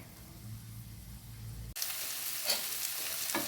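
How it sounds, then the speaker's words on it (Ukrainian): Steady hiss and crackle of onions, carrots and peppers frying in oil in a pan, close and continuous, with a brief clatter partway through. "Цибуля, морква і перці смажаться вже на сковорідці"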